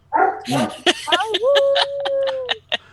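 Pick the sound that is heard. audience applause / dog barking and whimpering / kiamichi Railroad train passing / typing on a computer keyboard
dog barking and whimpering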